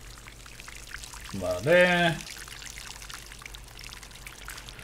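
Water pours in the Alchemy Garden video game, a short bubbling trickle of about a second rising above a steady background hum, with a voice speaking briefly in Spanish.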